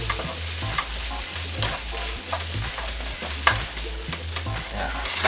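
A large onion sizzles steadily on a hot grill, with continuous frying hiss and crackle and occasional scraping stirs, close and fairly loud with no talking.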